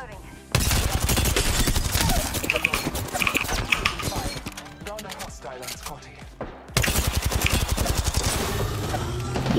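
Rapid automatic gunfire from an SMG in the battle-royale shooter Apex Legends, loud dense bursts across the clip with a short lull, as players talk excitedly over it.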